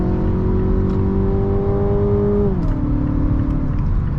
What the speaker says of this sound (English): You really have to rev this engine out to get the most out of it.